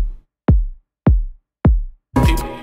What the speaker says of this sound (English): This is the kick for the track.